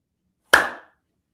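A man's single sharp hand clap, crisp and close, ringing briefly before fading into silence.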